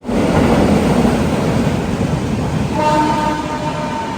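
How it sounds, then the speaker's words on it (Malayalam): A loud, heavy rumble of the Dhanbad–Alappuzha Express rolling into Idappalli railway station close by, with a brief tonal squeal or horn partway through. "ഇപ്പോൾ ഒരു ട്രെയിൻ വരാനുണ്ട് ധൻബാദ് ആലപ്പുഴ എക്സ്പ്രസ്"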